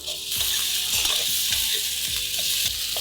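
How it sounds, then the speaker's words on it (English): Halved boiled baby potatoes sauteing in butter and oil, a continuous close sizzle with repeated scraping and stirring knocks of a spatula against the pan. "And now keep sauteing them till they are crisp."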